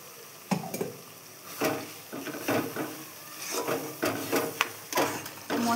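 Chopped tomatoes frying in a pan with chilli powder and turmeric, stirred in irregular scraping strokes over a soft sizzle, close and moderately loud with no talking.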